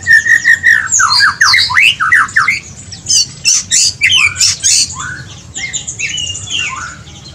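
An oriental magpie-robin in an aviary gives a rapid series of loud, close squawking and chattering calls in bursts, with brief pauses between phrases.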